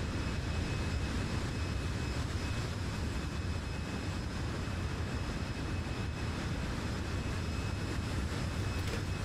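Airbus A320 jet engines roar steadily through a takeoff run in Microsoft Flight Simulator, a loud, even broadband rumble with faint high whines and no talking.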